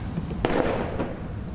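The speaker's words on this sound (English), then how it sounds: "A gunshot." A single distant gunshot from a sound effect rings out once in the dark over murky water, a soft muffled crack that fades quickly into a low rumble, with no voices.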